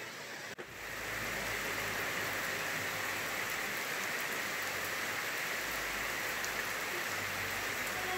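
Steady rain falls outdoors in North Carolina on a cool day, a dense continuous hiss of drops on surfaces, close and even throughout with no voices.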